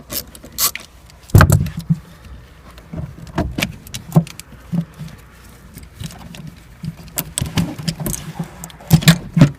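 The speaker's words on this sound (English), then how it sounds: "You just need to disconnect the negative battery terminal here." Wrench clicks and metallic clanks as the negative battery terminal is loosened and pulled off in the rear-mounted battery compartment of a BMW 3 Series, with short sharp taps and jangling scattered throughout, close and fairly loud.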